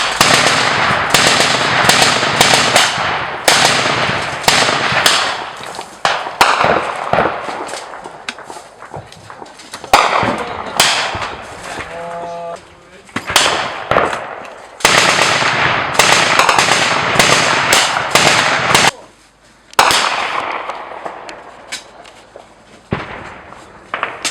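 Dense, rapid bursts of gunfire crack continuously, loud and close, during frontline combat at Pisky, Ukraine, with brief lulls between volleys.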